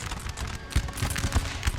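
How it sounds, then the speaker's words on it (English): Cannon fire from guns on a hill in a Napoleon: Total War battle, a series of dull booming thuds spaced irregularly under a noisy din of combat. "French light infantry is getting smashed by the cannons from the hill"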